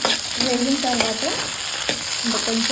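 Something fries in a pan while being stirred, for a Rayalaseema dish of ragi sangati with chenakaya curry, giving a steady close sizzle broken by a few scraping stirs, with no talk.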